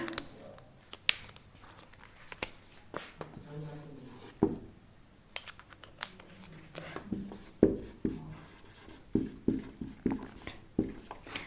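Notes are written during a lecture, producing irregular close scratches and sharp taps of pen or chalk strokes, with faint voice sounds in between.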